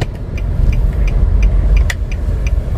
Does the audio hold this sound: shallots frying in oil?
no